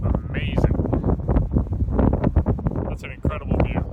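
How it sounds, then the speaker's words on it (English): Strong wind at the Columbia Icefields buffets the microphone in loud, gusty rushes while a person talks over it. "Super windy right now, as you can see, or hear probably."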